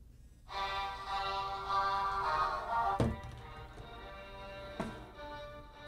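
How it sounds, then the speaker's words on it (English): A phone ringtone plays a steady melodic tone, muffled and faint underwater inside a LifeProof iPhone case, interrupted by two dull thunks. "it's still ringing even underwater"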